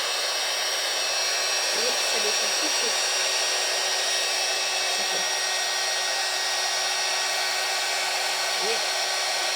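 Hair dryer blowing steadily over damp watercolor paper to flatten its buckling, a loud continuous airy roar throughout, with someone speaking French quietly beneath it.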